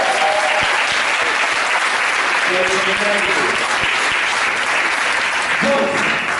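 An audience claps steadily and loudly for the whole stretch, a dense wash of applause with a few voices faintly mixed in.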